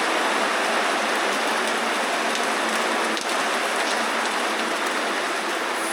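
Heavy rain pours in a dense, constant roar, drumming steadily on a tent surface close by, loud and unbroken with no voices.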